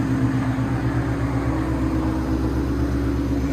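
A 2012 Shelby GT500 Ford Mustang with a supercharged 5.4L V8, long-tube headers and Corsa dual exhaust runs at a steady, loud idle with a deep, even rumble throughout.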